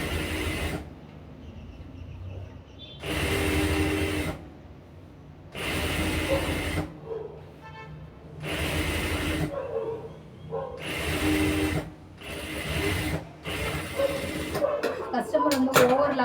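Sewing machine stitching fabric runs in repeated bursts of a second or so, whirring loudly and stopping between them, with quiet handling noises and a few ticks in the gaps.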